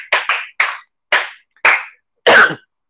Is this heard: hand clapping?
yes